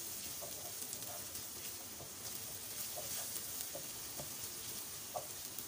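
Onions, garlic and ginger fry over low heat in a pan, producing a steady quiet sizzle broken by small ticks and pops from stirring, with no talking.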